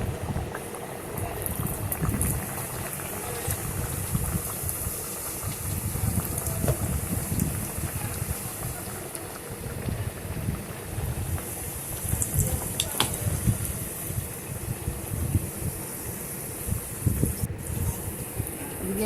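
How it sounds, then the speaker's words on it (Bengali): Khaja pastries deep-frying in a pan of hot oil for a Bengali sweet, giving a steady, dense bubbling sizzle that runs unbroken for the whole stretch, fairly close and with no voices over it. "এইভাবেই সমস্ত গজাগুলোকে ভেজে নেব।"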